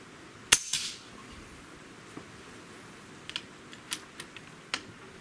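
A Hatsan Galatian air rifle fires one sharp, loud crack, followed by a short tail and several faint clicks and taps nearby in an otherwise quiet setting.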